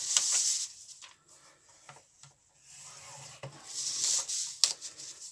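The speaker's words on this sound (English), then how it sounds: "You score at the inch mark." Quiet scraping of a scoring tool drawn along card at the inch mark, in a few short rasping strokes with soft pauses between them, close up and without speech.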